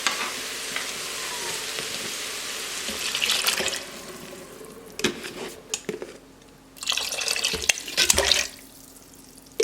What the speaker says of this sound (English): I'm just gonna fill the rest with water